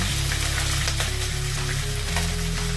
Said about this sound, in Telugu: పెద్ద స్పూన్ అల్లం వెల్లుల్లి పేస్ట్ వేస్తున్నాను.